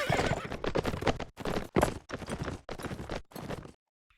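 A horse in a video game match gallops with quick clip-clop hoofbeats in several bursts, then gives a sharp neigh before falling quiet.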